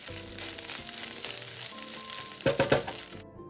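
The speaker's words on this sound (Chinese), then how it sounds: "喜欢青葱的朋友，这时候也可以适量加一点，炒一炒即可上碟享用了" Leftover rice is stir-fried with egg in a wok into golden fried rice. A steady sizzle fills the clip, and near the end a few louder scraping and tossing bursts rise above it before it cuts off.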